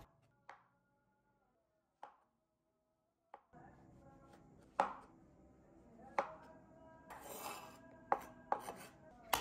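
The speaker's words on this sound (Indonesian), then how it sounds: "Pertama, potong ukuran sedang jamur kancingnya." A knife cuts button mushrooms into medium pieces on a board: a few sparse, separate taps at first, then quicker, closer chopping over a low background hum.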